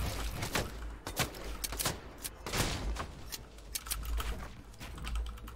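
Fortnite gunfire during a match, with rapid sharp shots and bursts popping repeatedly at close range amid clicking.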